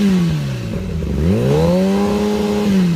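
A Cowie motorcycle engine revs up close, its tone dropping, then climbing sharply and holding a loud steady high drone, with no talk.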